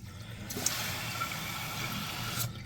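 A toilet is flushed partway during an adjustment test, and water rushes and swirls steadily for about two seconds, moderately close, starting and stopping abruptly.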